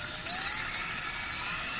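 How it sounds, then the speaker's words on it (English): A handheld electric drill bores into a raw potato, giving a steady high-pitched whir that stays level and moderately loud for the whole stretch, with a faint rising tone near the start. "Drilling into potatoes."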